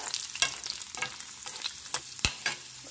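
Cashews and raisins fry in a pan for payasam, with a soft sizzle under intermittent scraping and clinking of a stirring spoon, close and fairly quiet with no talk.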